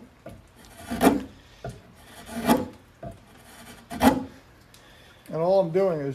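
A knife carves across the grain of a green wood axe handle in three slow, rasping strokes, close and crisp, with a voice speaking briefly at the end.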